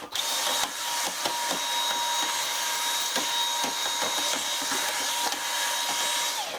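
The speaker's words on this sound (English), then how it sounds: "I'll hoover here as well quickly, since I'm doing this huge tidy up and declutter and just wow, I'll hoover as well." A cordless vacuum cleaner hoovers a craft studio during a big tidy-up. It runs as a steady, loud whine from start to finish, with short clicks and knocks as the nozzle bumps and moves across surfaces.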